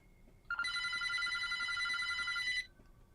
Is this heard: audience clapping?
no